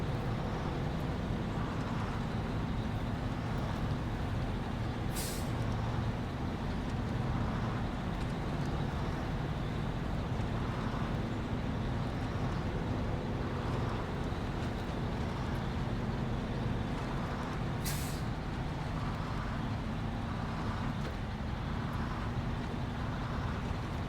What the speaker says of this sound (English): the noise I can hear is that GMC engine in the background, kind of ticking over